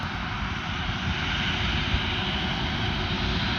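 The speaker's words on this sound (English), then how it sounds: "the aircraft shall taxi shortly toward the runway" Airbus Beluga A330-743L cargo aircraft at Amiens airport, its engines running steadily while parked before taxiing: a continuous, loud, broadband roar and whine with no break.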